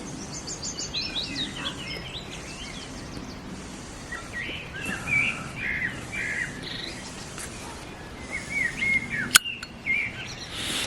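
A bird calls outdoors near a 1965 Land Rover Series 2A, with faint scattered chirps over steady background noise and a brief sharp click near the end.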